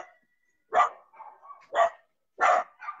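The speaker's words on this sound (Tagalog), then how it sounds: "May aso. Aso eh. Oo, maingay sa camera." A dog barks three times in sharp, evenly spaced bursts close by, with faint quieter sounds in the pauses between barks.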